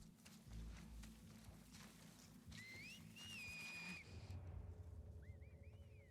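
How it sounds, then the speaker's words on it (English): Short rising whistles sound in The Last of Us Part II, a few sliding tones in the middle followed by fainter ones near the end, over a patter of rain and low ambient rumble. "That's where the whistle's coming from."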